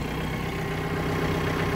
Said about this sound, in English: you'll hear that tractor then bear down on the relief valve and want to continue moving fluid